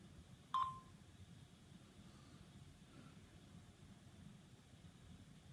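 A single short electronic beep sounds once near the start, followed by quiet hiss and low background rumble with nothing else.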